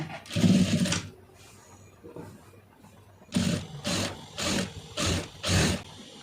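A sewing machine stitches along a blouse neckline, first in one longer run, then after a pause in four or five short, evenly spaced bursts, close and moderately loud.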